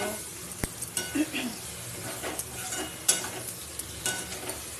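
Curry being sautéed and stirred in a pan for a Bengali lunch of magur fish jhol, with steady sizzling under repeated scraping and clinking stirs, close and moderately loud.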